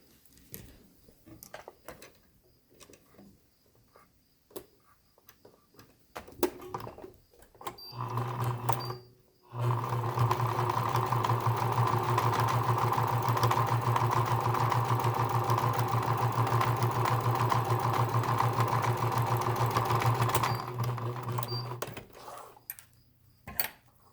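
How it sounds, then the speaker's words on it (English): A sewing machine stitches a half-inch seam across a fabric mask. The motor whirs steadily and loudly for about twelve seconds after a few short starts, then stops. "we are going to sew completely from one side to the other"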